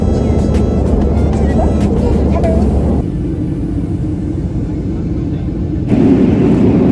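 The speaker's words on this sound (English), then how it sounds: "we just landed in Panama City. Like literally just on the ground. Wheels on the ground." Airliner touching down at Panama City, a steady loud rumble of engines and tires on the runway filling the cabin, dropping in level midway as the jet slows, then swelling again near the end.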